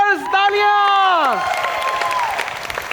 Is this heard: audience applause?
yes